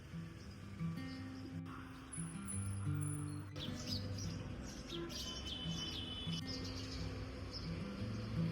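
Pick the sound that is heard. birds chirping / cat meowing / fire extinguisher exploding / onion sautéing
birds chirping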